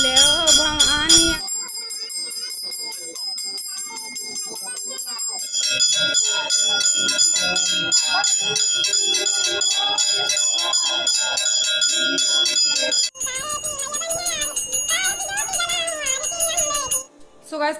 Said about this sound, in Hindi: पुजारी जी ने बजाया फिर घंटा